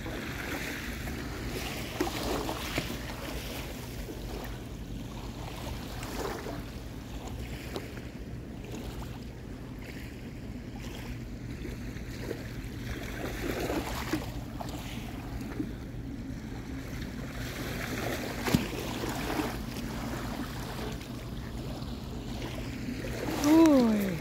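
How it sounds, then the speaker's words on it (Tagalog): Small boat rocking on a strengthening sea, with steady wind and water noise and faint sloshing waves through a long stretch. Quiet voices can be heard now and then. "Lumalakas po yung alon."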